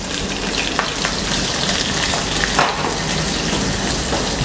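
Medium onion dropped into hot oil with crackled cumin for chicken jalfrezi, giving a loud, steady, dense sizzle close up with faint stirring, and no talking.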